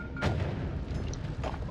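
A booming explosion in the roguelike game Noita, one sharp blast early followed by rumbling debris and a second smaller burst near the end, loud and close with no talking.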